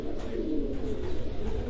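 Farran sport pigeons coo softly at a pigeon sports festival tournament in Gujrat, a low, steady, overlapping cooing from nearby birds with no voices.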